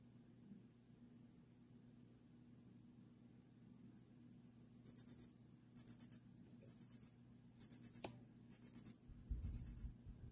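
A Zippo travel clock made in March 1995 sounds its quiet alarm: faint, high, thin beeping in six short bursts of rapid pulses, evenly spaced about a second apart, over a low steady background hum.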